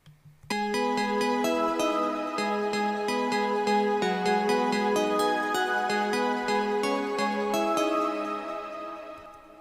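A synth melody from the Nexus plugin in FL Studio, led in by a short reversed swell, plays alone as a loud, bright run of evenly paced sustained notes before tailing off.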